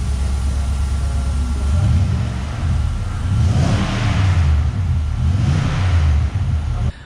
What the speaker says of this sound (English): So we originally bolted the Torquid exhaust on. Now when we first started, I thought it was actually a little bit quiet